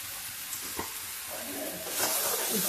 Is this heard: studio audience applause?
no